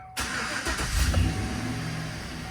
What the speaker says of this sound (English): Let's go ahead and give it a fire up.